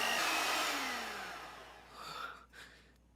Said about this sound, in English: are you ready to try the mixer?